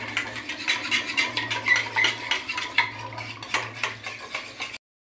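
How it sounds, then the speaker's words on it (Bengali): Spice masala being mixed into yogurt in a bowl with a spoon, brisk repeated scraping and clinking strokes of metal against the bowl, close and fairly loud, ending in sudden silence. "দইয়ের সাথে মশলাটা খুব ভালো করে ফাটিয়ে দেবো"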